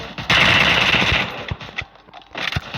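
Rapid automatic gunfire in the mobile game Free Fire, loud and close in a sustained burst followed by scattered single shots.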